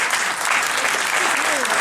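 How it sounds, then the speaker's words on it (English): Short burst of dense audience applause in a lecture setting, loud and close, with a voice speaking over the clapping. "give her a big round of applause."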